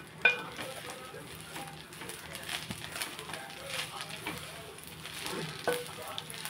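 Coriander seeds fry in a little oil for curry leaf powder, giving a steady soft sizzle with occasional stirring scrapes, close and fairly faint.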